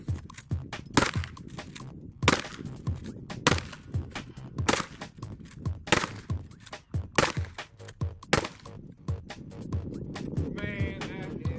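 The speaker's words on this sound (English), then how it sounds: "Mr. Christmas 740 is going to try out the Henry 45 long colt." Repeated loud rifle shots from a Henry .45 Long Colt lever-action firing stout hand loads at an outdoor family range, sharp reports spaced a second or so apart, with other nearby shots and some range noise between.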